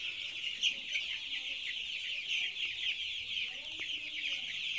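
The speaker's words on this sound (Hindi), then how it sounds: "कितना अच्छे से चूजे लोग दौड़ रहे हैं" Young chicks of an FFG cross breed chirp busily and continuously in an open pen, a dense high-pitched peeping chorus with a few louder calls, steady and close throughout.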